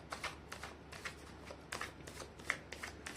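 Tarot cards shuffled in repeated quick riffling bursts, soft papery flutters with small snaps, close and fairly quiet, alone with no talking.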